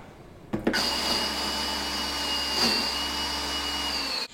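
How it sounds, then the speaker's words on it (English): A food processor whirs into life to mince fresh ginger, its motor starting abruptly and holding a loud, steady whine with a faint rattle of chopping until it cuts off at the end. "we're just going to turn this on and mince it"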